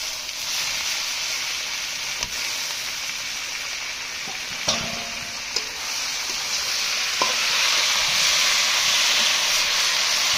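Chopped hot onions frying in a pan, with boiled taro being added, give a steady loud sizzle and hiss that swells toward the end, broken by a few sharp clinks of a utensil against the pan.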